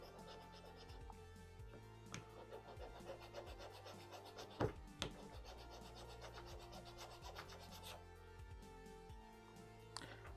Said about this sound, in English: Whenever you're sanding or filing anything, make sure you go both ways, right?